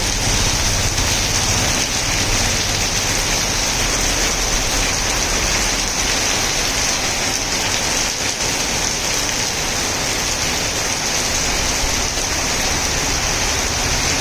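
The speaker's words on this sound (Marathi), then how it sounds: "बघा मुसळधार पाऊस पडत आहे।" Heavy rain pours steadily onto a road between Udgir and Deglur, a dense, continuous hiss that stays loud and unbroken throughout, with no voices over it.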